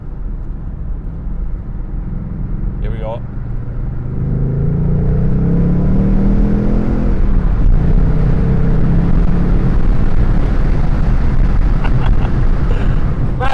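Ford Mustang Bullitt V8 engine heard through an open window while the car rolls along slowly, a loud, deep, continuous rumble that swells as the throttle opens, with a brief spoken remark near the start.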